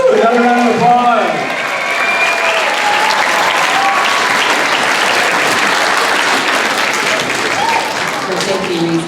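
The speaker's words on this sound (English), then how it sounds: "Woo, another round of applause." At a school fun-fest, an amplified voice opens briefly before a large audience breaks into loud, sustained clapping with some cheering, steady to the end as talk fades under it.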